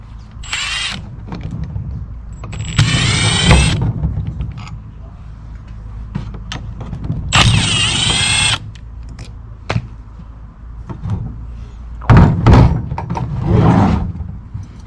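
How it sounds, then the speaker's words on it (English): Work on a 2012 Subaru Forester front brake caliper, with loud bursts of a power tool, likely an impact driver, whirring for a second or so at a time, close up, separated by clanks and quieter handling noises. "So I'm going to be taking apart the caliper so I can install my new hardware."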